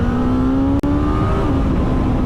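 A 2022 Suzuki GSX-S1000GT inline-four motorcycle engine runs loud and steady at high revs, holding a droning pitch that drops a little near the end, with a brief cut partway through.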